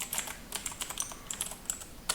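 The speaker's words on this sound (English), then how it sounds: "I'm just going to type in like the titles" Fingers type on a computer keyboard while entering titles into a Google Sheets spreadsheet, a quick irregular patter of close, light key clicks with no speech.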